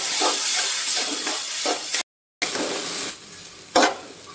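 Tomato and onion paste sautés in a pan for a chow-chow curry, a steady moist sizzle with repeated scraping stir strokes, then a quieter stretch ending in one sharp clank.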